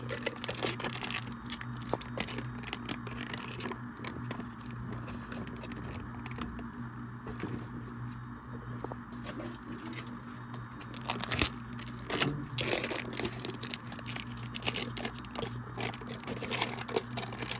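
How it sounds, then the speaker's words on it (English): Wrappers are peeled off two blocks of cream cheese in a home kitchen, a close, continuous run of small crinkles, crackles and ticks lasting well over fifteen seconds, with no talking. "And then we have 2 blocks of cream cheese for a total of 16 ounces. Okay, so we got to peel it."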